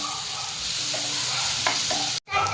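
Green chillies and spices being stirred into a peas paratha filling, a steady scraping and sizzling texture throughout, close and moderately loud, with a brief dropout near the end.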